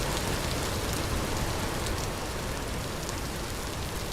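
Loud, unbroken rainfall in the game Vintage Story, a thick hiss of drops pattering evenly for the full few seconds with no talking.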